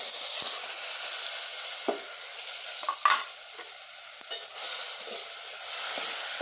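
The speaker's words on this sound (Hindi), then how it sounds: "अब मैं इसे फ्राई कर लूँगी अच्छे से" Masala of ground ginger, garlic and chili with tomato, red chili, coriander and turmeric powder frying in a pan for gobhi anda kadhi, a steady close sizzle broken by scraping stirs of a spoon.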